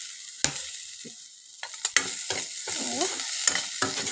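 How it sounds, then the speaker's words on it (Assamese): Fish frying with chopped onions and green chillies in a pan, a close sizzle broken by sharp spatula taps and stirring scrapes, growing into a steadier hiss toward the end, with no talking. "মাছখিনি আধা ভাজা হৈ গ'ল। তাৰপিছত মই পিঁয়াজ কাটি থোৱা পিঁয়াজ আৰু জলকীয়াখিনি দি দিলোঁ।"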